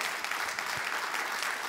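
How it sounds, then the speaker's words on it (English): Steady applause from an audience at a panel discussion on designing, building and financing resilient futures, a dense, even patter of clapping sustained throughout without any voices. "give him a round of applause"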